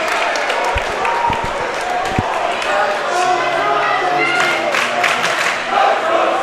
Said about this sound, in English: This crowd getting involved early.